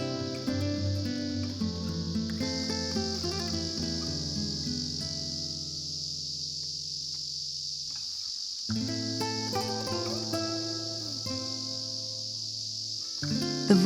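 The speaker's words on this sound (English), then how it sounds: "The voice of cicadas in the forest is the sound of all that accumulated time underground." A constant high, buzzing drone of cicadas in a forest on Mount Kirito fills the background, steady throughout, beneath sustained tonal music.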